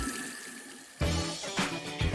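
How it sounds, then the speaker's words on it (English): Lukewarm tap water runs into a sink, a continuous close rushing splash that swells and shifts in strength after a quieter start. "open the taps and let some lukewarm water run for a minute or so"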